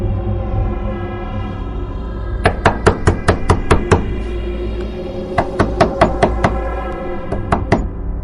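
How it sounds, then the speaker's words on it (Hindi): In a horror cartoon, a door is knocked on in two loud bursts of rapid raps, about six quick blows and then another run of about seven. Steady eerie background music plays underneath, with no speech. "दरवाजे पर दस्तक हुई।"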